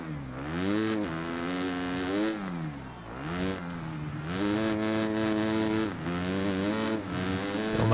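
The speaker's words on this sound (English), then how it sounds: "the bike sounds do sound good, but in first person I feel like the bike is making some really awkward bogging noises" Motocross bike engine in the video game MXGP3, droning and bogging with repeated throttle rises and dips over a steady loud whine, continuous and close with no voices.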